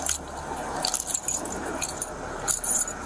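Truck keys jangle in several short metallic bursts close by, dropped along with a motorcycle helmet and book bag during a roadside tow of a motorcycle, over steady background noise.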